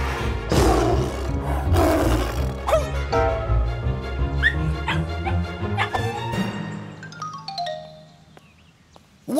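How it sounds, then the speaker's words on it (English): A cartoon lion roars loudly and with much texture, mixed with barking and whimpering animal sounds, then a string of brighter tonal effects that fade into near quiet. "A lion!"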